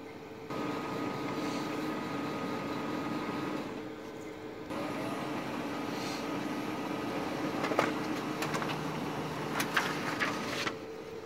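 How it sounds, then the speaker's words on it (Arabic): A Brother HL-5340 laser printer runs a test page with a steady mechanical whir and hum, a brief pause, then resumes with light clicks and ticks near the end, close and continuous with no talk. "اخذت الاوردر الطابعة"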